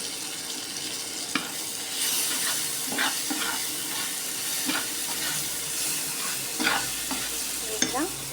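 Finely chopped garlic fries in a pan, giving a steady gentle sizzle broken by clinks and scrapes of a spoon stirring it.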